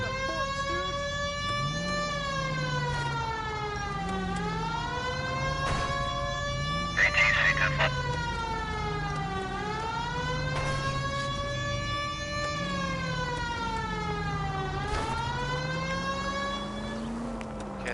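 Wailing police car sirens in the video game L.A. Noire rise and fall repeatedly in a steady cycle, loud and continuous, with an engine drone underneath.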